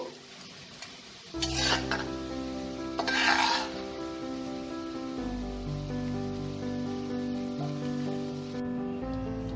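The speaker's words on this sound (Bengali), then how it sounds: "এবার আমি এতে একে একে মাছগুলোকে সব লাল করে ভেজে নেব।" Katla fish pieces frying in hot oil after onions have been browned, a steady close sizzle with a couple of louder bursts of spatter and stirring near the start, no talking.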